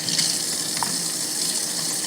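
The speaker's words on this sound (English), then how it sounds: "so I'm just washing my hands" Water from a running kitchen tap pours steadily into a sink as hands are washed, a constant close hiss and splash with a faint drip-like blip midway.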